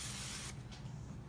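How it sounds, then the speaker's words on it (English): Canola oil cooking spray gives a short, close hissing burst into a slow cooker while making pork carnitas, then trails off into quieter hiss. "So I spray mine with a little"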